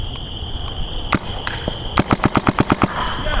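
Paintball markers fire during a kids-versus-adults paintball game, with a few separate pops and then a quick burst of about eight sharp, evenly spaced shots over a steady background hiss.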